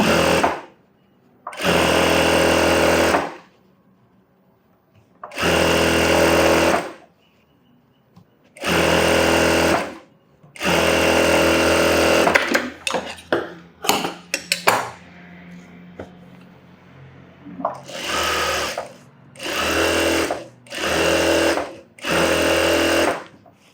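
A sewing machine stitches a blouse, running in repeated loud bursts of about a second or two, then a string of shorter stops and starts with small handling clatter between them.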